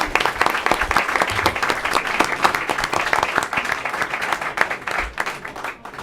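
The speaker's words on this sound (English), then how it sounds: "Let's give them another big round of applause." A school board meeting audience gives a big round of applause after a song performance, dense and sustained clapping filling the room for several seconds, with a few faint voices underneath.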